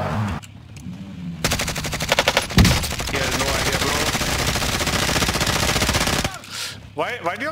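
Rapid automatic gunfire in a multiplayer shooter video game, loud sustained bursts with quick repeating shots running for several seconds, with brief single shots and game sounds around them.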